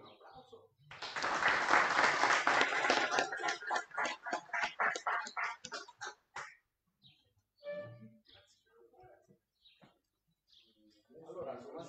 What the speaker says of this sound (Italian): Grazie di cuore, un applauso.